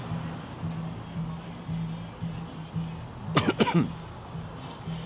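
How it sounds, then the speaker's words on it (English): Faint background voices on a Hollywood street at night, then a short burst of a few sharp, close coughs partway through. "That's a new cough, by the way."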